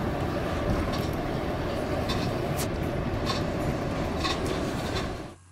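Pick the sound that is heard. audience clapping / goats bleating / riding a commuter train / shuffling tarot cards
riding a commuter train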